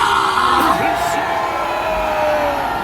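A large rally crowd in Korea protesting against the Prosecutor General, a sustained loud roar of shouting and cheering from many voices, steady throughout.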